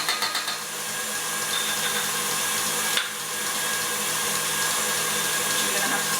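An electric mixer whisks pink marshmallow mixture, coloured with freeze-dried raspberry powder, in a steady, loud, continuous whir. A brief knock interrupts it partway through, and the whirring carries on without anyone speaking.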